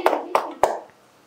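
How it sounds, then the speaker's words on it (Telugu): Three sharp hand claps land in a quick, steady rhythm, close and crisp, each ending in a brief room echo before the clip falls quiet. "చప్పట్లు."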